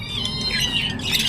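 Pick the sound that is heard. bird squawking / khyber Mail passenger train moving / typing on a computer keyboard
bird squawking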